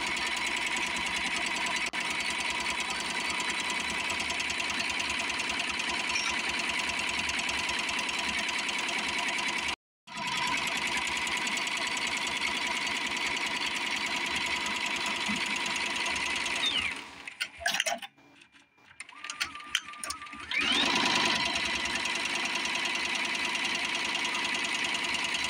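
A Tajima Sai embroidery machine stitching lettering onto a baby onesie, its steady rapid mechanical hum running without pause, close and even, with a brief stop and a short stretch of mixed clatter near the end.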